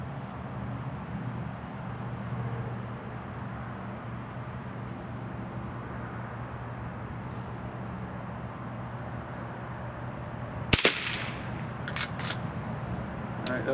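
A .22 Short rimfire round fired in a test crack once near the end over a steady low background hum, followed by a few fainter sharp clicks.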